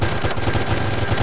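Rapid automatic gunfire in the ARMA 3 military video game, a loud continuous burst of closely spaced shots filling the whole moment with no talk.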